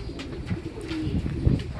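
Soft cooing of pigeons or doves, a few low calls over a faint outdoor background, some bird sounds at a distance.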